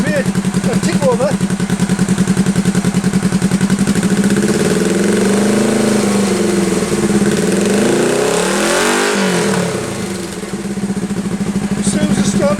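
A hard tail bobber motorcycle with rejetted carburettors and K&N filters idles at tick over with a steady, close, thumping beat. The engine swells briefly in a rev midway before settling back to idle.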